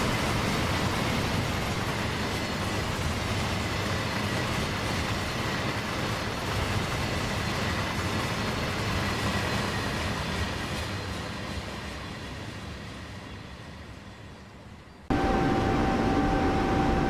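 Freight train in Train Sim World on the Semmeringbahn rolls along at speed with a dense, steady rumble and rail noise that slowly fades, then cuts abruptly to a brighter cab sound.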